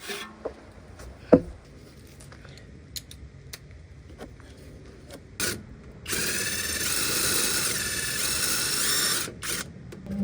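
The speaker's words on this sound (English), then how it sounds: "Remove these drive shaft bolts completely." Power tool working on the drive shaft bolts of a 2010 Audi A4 during a clutch replacement: a few clicks and clanks of tool handling, then a sustained whirring burst of about three seconds, close and fairly loud.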